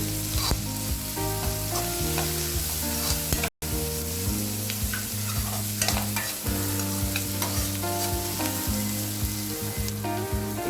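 Ivy gourd (tindora) fries on a high flame with a steady, close sizzle and occasional stirring scrapes, running continuously beneath background music.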